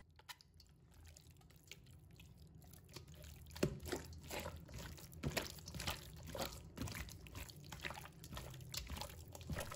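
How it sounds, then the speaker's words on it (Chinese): Pig stomach being rinsed under running water in a basin after scrubbing with flour and liquor, giving steady close trickling and dripping with scattered splashes and handling knocks throughout. "放入另一个干净的盆中，用流动水清洗，把面粉和白酒给它清洗干净"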